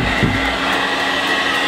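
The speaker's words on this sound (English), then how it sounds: "Grab our hair dryer." A hair dryer blows continuously up close, a loud steady whooshing motor drone with no talk.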